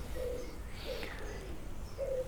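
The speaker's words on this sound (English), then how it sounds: "There's some noisy pigeons here." Pigeons coo in a garden, a few soft, low calls spaced apart over steady background noise, with no talking.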